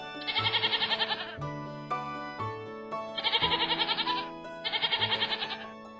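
A goat bleats three times, each a loud, wavering, nasal cry, clear and close over a soft tonal musical backing.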